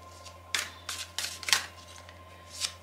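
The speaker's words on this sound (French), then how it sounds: "Détendez-vous pendant que je tire les cartes." Tarot cards are shuffled and drawn in several quick, crisp riffling bursts at irregular intervals, heard close and fairly quiet against a low steady hum.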